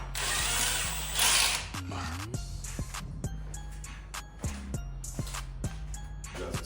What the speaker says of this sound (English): And I got my impact. We just drill these out.